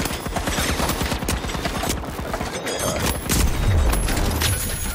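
Rapid gunfire in the video game The Finals, Bank It mode: dense, continuous bursts of automatic shots crackle close and loud throughout, with a heavier boom-like swell near the end.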